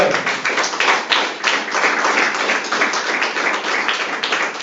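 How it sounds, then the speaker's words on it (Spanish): A congregation claps for Jesus in sustained, dense applause that starts with a few sharp claps and fills out into a continuous ripple, close and fairly loud, with no voices over it. "Dar un aplauso al Señor Jesús"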